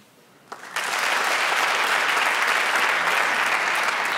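A comedy-show audience in a hall bursts into applause after a brief quiet moment, and steady, dense clapping fills the room and holds at an even level.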